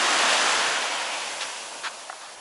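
Sea waves break on a sandy amber beach, a loud rushing surge that fades gradually with a few small splashes at the end.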